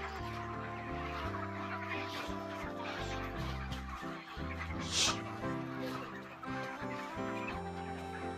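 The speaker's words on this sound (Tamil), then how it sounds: "இப்போ ஒரு 500 கோழிகள் இருக்குது, இதையும் ஏற்றி விட்டுட்டால் இன்றைக்கான வேலையும் முடிஞ்சிடும்" Hundreds of chickens cluck in a poultry shed, a dense overlapping chorus of clucks and calls near and far, with a sharp louder squawk partway through.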